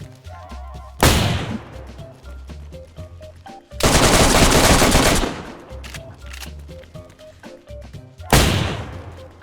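Gunfire in the video game DayZ, with three bursts of loud, rapid automatic shots, the middle one longest, separated by quieter in-game ambience.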